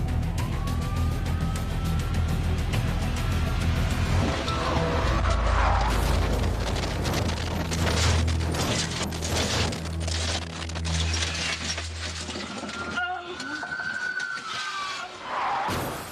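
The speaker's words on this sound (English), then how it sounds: "Eventually, Sponsler lost control of the vehicle and spun out of control." A stolen car spinning out during a high-speed police chase on US 69, loud engine roar and tyre noise with rising and falling whines, a heavy rumble midway, then a sudden cutoff near the end.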